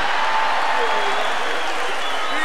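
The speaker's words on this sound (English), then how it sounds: "let's give my future brother-in-law a big round of applause" Audience applause at the 1992 Tejano Music Awards, a dense, steady wash of clapping from a large crowd, loud and continuous throughout.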